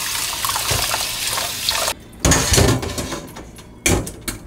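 Water draining off soaked grain during preparation of yeolmu water kimchi, a gushing, splashing pour broken by short pauses and resuming in bursts.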